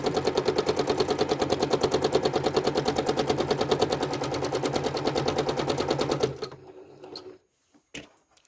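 A sewing machine quilting serpentine lines runs in a fast, steady rattle of stitches for about six seconds, then stops, leaving a few faint clicks and knocks.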